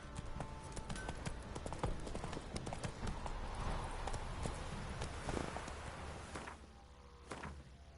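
In The Witcher III, the horse Roach's hooves clip-clop in a quick steady rhythm across the ground, close and fairly loud, easing off near the end, with faint game ambience beneath.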